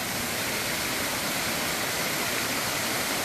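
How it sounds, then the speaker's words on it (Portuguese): A waterfall cascades at Serra das Andorinhas near São Geraldo do Araguaia, making a steady, dense, full roar of falling water that stays constant and fairly close throughout, with no voices. "e aí você está vendo as cachoeiras"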